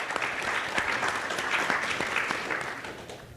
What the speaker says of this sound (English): Please give a round of applause from Ms. Halupowski